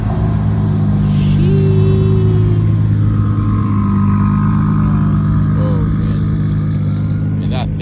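A Toyota Supra running on E85 idles and revs close by, a loud, dense engine rumble with brief rising pitch sweeps over a constant low drone.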